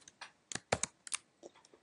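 A computer keyboard clatters as an equation is typed, with quick, uneven keystrokes close by but fairly faint, a dozen or so clicks with no other sound.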